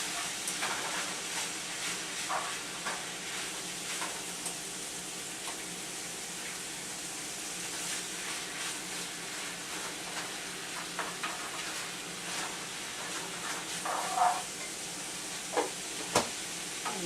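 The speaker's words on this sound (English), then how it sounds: "Now while this is simmering" Tomato sauce simmering and sizzling in a pan, a steady soft hiss with faint bubbling and occasional light stirring clicks, alone without talk.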